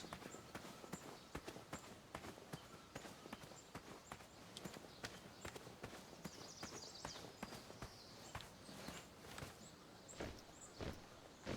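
Horse hooves clip-clop steadily along a road in the King's Quest video game, a quiet, even rhythm of repeated hoofbeats continuing throughout without pause.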